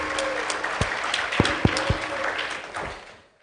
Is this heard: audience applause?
yes